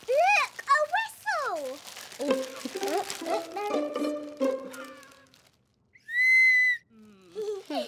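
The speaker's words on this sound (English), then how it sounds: "Look, a whistle!" A shrill toy whistle blows one sustained, steady note, loud and close, after a stretch of children's chatter and playful vocalizing; a voice follows.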